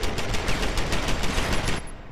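Rapid automatic gunfire in the video game Deus Ex: Human Revolution, a dense burst of closely spaced loud shots lasting about two seconds before stopping.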